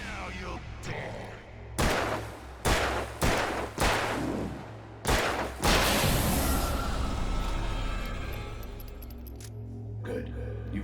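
Gunshots in Alan Wake Remastered, with about six sharp, loud single shots spaced unevenly and then a longer burst that fades into a lingering echoing tail, and a voice speaking between them.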